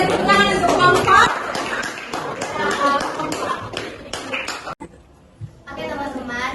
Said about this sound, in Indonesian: kita tepuk tangan untuk kelompok